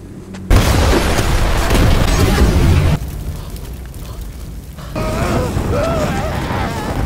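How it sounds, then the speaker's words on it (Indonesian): A car blown up by a sniper in a survival thriller film, a sudden loud boom followed by sustained rumbling roar that drops off, then continues under scored music and voices. "Saat si sniper akan meledakkan mobil"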